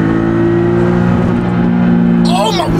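A modified BMW E46 wagon engine holds a steady high-rpm drone, bouncing against the rev limiter, loud and close, with a brief whooshing sweep near the end.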